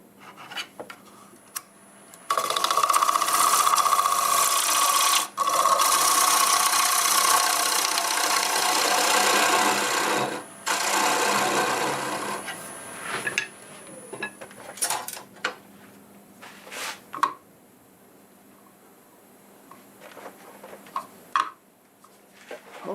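Guava wood being turned on a lathe, a loud continuous rasping cut as the tool takes a pass, dropping midway and ending in scattered scrapes and knocks.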